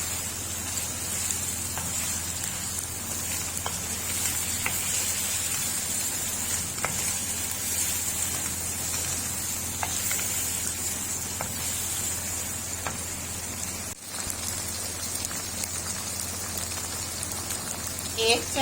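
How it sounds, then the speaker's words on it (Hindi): Ginger garlic paste frying over a high flame, giving a steady, dense hiss and crackle that runs unbroken at close range with a few scattered louder pops. "फ्लेम को हाई पे कर देंगे और अदरक लहसुन का पेस्ट 1 चम्मच ऐड कर देंगे। 5 मिनट इसकी इस तरह से भुनाई करेंगे।"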